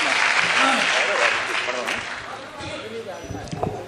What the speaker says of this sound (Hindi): जोरदार तालियों से अभिवादन करे